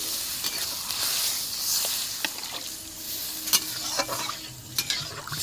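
Spiced masala for a taro and bogo fish curry sizzles and hisses in a pan as water goes in, a steady frying crackle with occasional sharp spits and a faint stirring scrape, close and fairly quiet.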